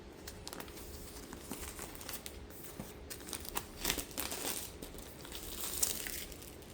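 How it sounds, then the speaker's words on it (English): Plastic wrap torn and peeled off the box of a DJI Osmo Action 5 Pro camera, a soft, close, intermittent crinkling and crackling at low level, with louder tearing bursts near the end. "let's go ahead and take the plastic off"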